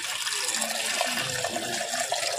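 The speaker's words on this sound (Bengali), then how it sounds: "এই যে দুধটা ঢেলে দিচ্ছি।" Milk poured into a pot while making tea at home, a steady continuous liquid splash and gurgle, close and fairly loud, running without pause and with no talking.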